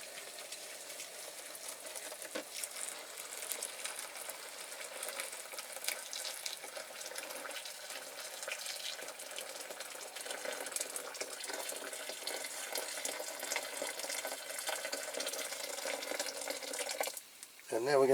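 Boiling water poured into a tub holding a toy truck model, a steady hissing splash of water filling the tub that runs on and then stops near the end, with a voice speaking briefly.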